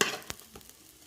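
Jeerakasala rice fries in ghee, a brief sizzle that starts loud and quickly fades, with a couple of sharp stirring scrapes after it.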